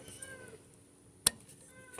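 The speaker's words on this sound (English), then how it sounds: "Freaking cat won't shut up." Cat meowing indoors, faint drawn-out meows at the start and end with a single sharp knock in between.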